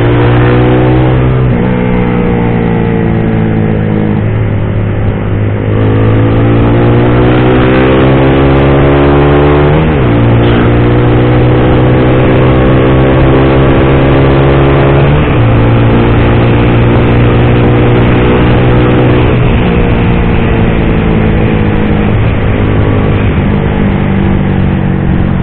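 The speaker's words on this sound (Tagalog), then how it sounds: "naririnig ko yung dalawang Z650 nasa likod lang natin" Loud, sustained motorcycle engine roar while riding, with repeated rising gear pulls and shifts, two Kawasaki Z650 motorcycles following close behind on the road to Kalayaan, Laguna, mixed with strong wind rush.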